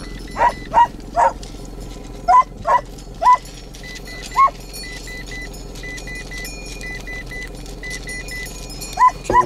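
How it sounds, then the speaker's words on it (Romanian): Sheepdogs bark in short, sharp single barks, a cluster early on and a couple more near the end, fairly close over a steady engine hum and faint background noise. "Hai să numesc câini de oi, ciobănești."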